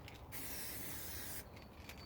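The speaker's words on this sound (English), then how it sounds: "now I'm gonna use spray glue" A steady hiss of spray glue from an aerosol can lasting about a second, close and clear, with quiet handling noise around it.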